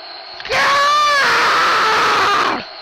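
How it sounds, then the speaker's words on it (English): A blood-curdling scream rises sharply and holds loud for about two seconds, strained and wavering before it cuts off, set within a dramatic reading of a horror story about ponies. "A blood-curdling scream bellowed out before her"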